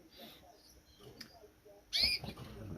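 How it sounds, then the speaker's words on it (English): Birds in an outdoor aviary give faint scattered chirps and calls at a distance, with one brief louder burst of calling near the end over a quiet background. "lots of birds outside in the aviary"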